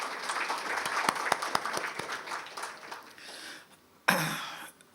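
Scattered audience applause at a community gathering, a thin spread of individual claps that fades out, followed by a short burst of noise and a throat clear near the end.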